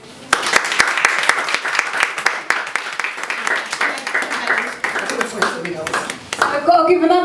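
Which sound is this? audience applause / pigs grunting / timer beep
audience applause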